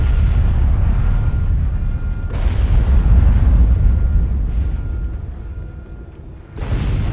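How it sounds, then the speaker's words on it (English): A long, rumbling explosion in the space game Star Trek Online, with heavy low booming that swells and surges over several seconds and ends in a sharp final blast. "This is the longest explosion ever."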